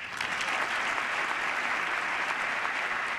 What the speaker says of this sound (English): Whoopee, and they all applaud